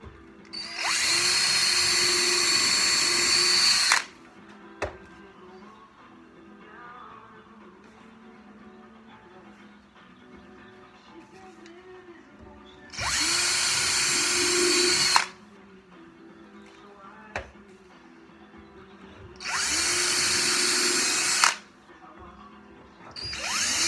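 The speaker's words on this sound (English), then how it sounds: "And now I'll go ahead and I'll pre-drill that one." Power drill pre-drilling a hole in wood while making tenons, three loud high-pitched whirring bursts of a few seconds each separated by quiet pauses with occasional clicks and soft movement.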